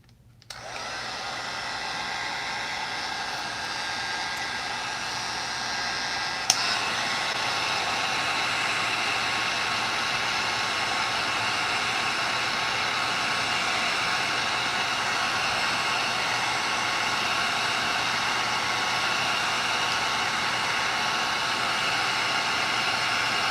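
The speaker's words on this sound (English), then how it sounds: "I'm going to grab my heat gun and shrink this thing on there." A heat gun blows hot air to shrink clear tubing. It clicks on and then gives a steady, close, loud whooshing whine that holds evenly for over twenty seconds with a fan hum. There is no talk.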